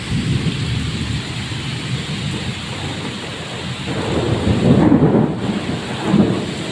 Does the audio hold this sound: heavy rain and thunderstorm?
yes